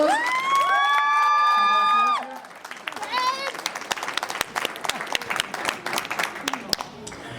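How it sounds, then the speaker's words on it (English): At a Monkees fan convention, a sustained shout or whoop rings out first, then the audience breaks into lively applause and cheering with scattered claps and whoops continuing to the end. "Ladies and gentlemen, nice round of applause."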